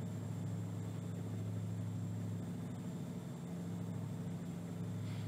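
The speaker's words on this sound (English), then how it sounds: "I'll sit back and let you guys just listen to the sounds of the truck." A heavy truck engine drones steadily in American Truck Simulator, hauling a Caterpillar oversized load with a Mack, as a loud continuous low rumble with a faint high whine and no talking.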